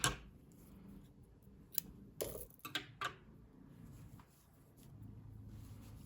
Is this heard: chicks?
no